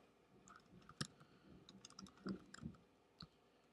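Scattered clicks of typing on a computer keyboard, a few soft keystrokes and taps spread irregularly, faint and close with a quiet background.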